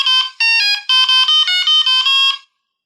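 A phone ringtone made from an MP3 song plays on an iPhone: a bright, electronic-sounding melody in short bursts, loud and close, ending abruptly in silence.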